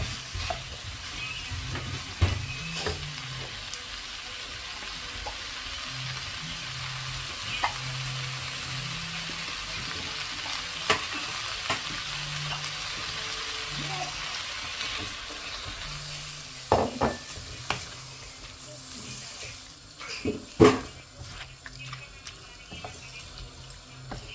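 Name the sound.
stirring mutton intestine curry with chilli powder in pan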